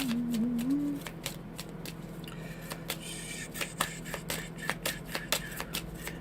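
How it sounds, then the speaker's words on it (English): A deck of tarot cards shuffled by hand, a run of crisp riffling flicks and soft slaps in an irregular rhythm, close and fairly quiet, with a brief hum at the start. "The cards are just a shuffling"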